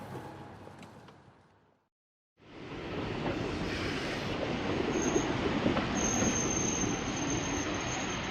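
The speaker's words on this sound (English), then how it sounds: "I just caught the train, which takes me to Grand Central Station." Commuter train to Grand Central Station rumbling steadily on rails after a brief silence, a broad continuous roar with faint high wheel squeal toward the end.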